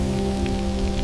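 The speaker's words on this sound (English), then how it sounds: "endless and unrelenting rain poured from every horizon" Steady rain falls without a break, a dense, even wash of drops hitting a surface, close and continuous with no voices.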